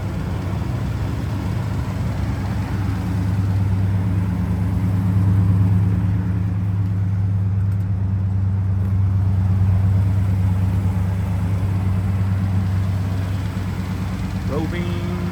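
A 1969 Pontiac GTO's 400 V8 with a three-speed automatic idles steadily nearby, a smooth, deep, continuous rumble that swells slightly and settles again throughout.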